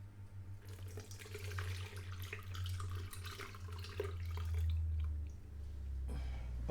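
Egg custard for a tart poured from a pan through a sieve into a jug, a continuous close liquid trickle and splash that swells midway and tapers at the end, with no talking.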